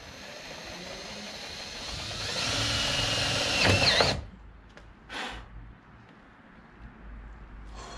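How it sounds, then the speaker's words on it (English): A power drill drives a self-tapping screw into the boot lid of a car fitted with a Rocket Bunny spoiler, whining and building in pitch for about four seconds before stopping abruptly, followed by a brief whir and quiet. "Self-tapping into the boot now."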